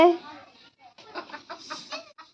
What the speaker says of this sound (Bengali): মুরগির বাচ্চা বসে রয়েছে